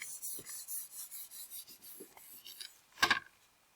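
Eraser rubbing back and forth over handwritten letters on paper, a steady series of close scratchy strokes followed by a brief louder scrub near the end.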